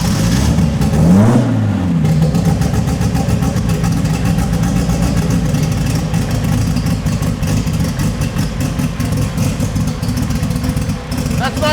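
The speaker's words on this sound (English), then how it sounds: "Start it up and let's see what happens. It should idle." A 2700+ HP VL race car engine fires up with a sharp rising burst, then settles into a loud, lumpy, rough idle that runs steadily close by, with speech over it.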